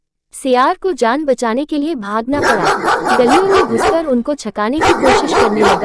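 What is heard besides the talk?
dogs barking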